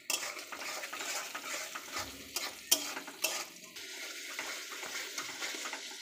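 Onions fry in hot oil with whole garam masala while a spoon stirs and scrapes the pan, giving a soft steady sizzle broken by repeated clinks and scraping strokes, close and fairly quiet.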